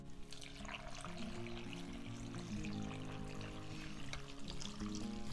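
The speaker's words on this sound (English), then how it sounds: "and then we're gonna add 4 cups of vegetable broth." Vegetable broth pours steadily into a soup pot holding kabocha squash, chickpeas and thyme, a continuous close liquid stream running for several seconds.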